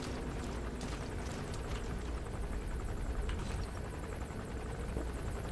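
A helicopter in the Metal Gear Solid 5 video game thrums with a rapid rotor chop that stays fairly steady and moderately distant, mixed with in-game ambience and no talk.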